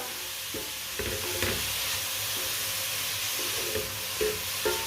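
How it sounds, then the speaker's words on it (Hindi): Carrots frying over a medium flame in a pan, stirred with a spoon: a steady loud sizzle and hiss with repeated scraping knocks of the spoon at irregular intervals, no voices. "इसी तरह चम्मच चलाते हुए गाजरों को ना पका लेना।"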